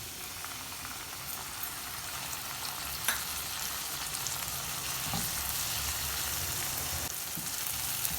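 Finely chopped tomatoes hit hot oil with garlic masala for dhaba-style paneer bhurji, giving a steady close sizzle with a few louder spatters and scrapes of stirring throughout.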